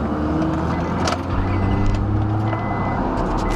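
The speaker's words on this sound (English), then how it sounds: "Start it up real quick." A 1999 Acura TL with the 3.2 engine idles just after starting, a steady low rumble with faint mechanical ticks and clicks on top, close and continuous.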